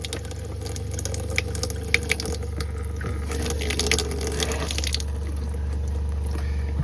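Cold water runs steadily from an RV tap over the low mechanical hum of a cycling water pump, with small splashes and drips scattered through the stream.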